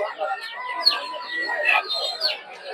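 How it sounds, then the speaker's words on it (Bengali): Chickens and chicks cluck and chirp densely at a crowded Saturday poultry market in Narsingdi, Bangladesh, with overlapping high calls throughout and people talking underneath. "প্রচুর পরিমাণে মুরগি উঠে এই হাটে।"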